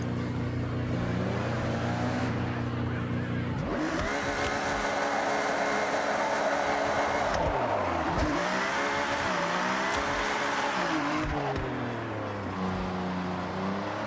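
A Ferrari engine in Forza idles low for a few seconds, then roars up through the revs with quick gear changes and lifts, loud and close, with no voices.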